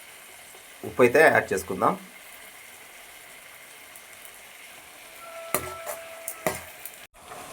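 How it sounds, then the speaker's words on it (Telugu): Tomatoes fry in a pan for mutton brain kheema, giving a low steady sizzle throughout. A short stretch of speech sits early on, and a few light utensil clicks and scrapes come near the end. "చక్కగా ఈ టమాటాలన్నీ బాగా వేగేలా ఫ్రై చేసుకుందాం"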